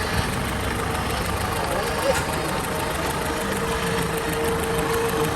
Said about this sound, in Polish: A zobaczcie, ten silnik cały czas pracuje.